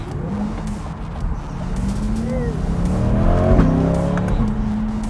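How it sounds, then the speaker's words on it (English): A red Ferrari 458 revs at a dealership, its engine note rising and swelling over a few seconds amid steady background traffic, with pigeons cooing nearby. "There's the Ferrari 458, the red Ferrari."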